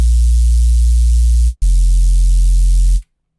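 Synthesized sub bass with added noise, a loud, deep sustained tone with a hiss layer on top, played as two long notes separated by a brief gap, then cutting to silence.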